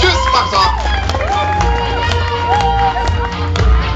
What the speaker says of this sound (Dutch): Geef een applaus, dames en heren.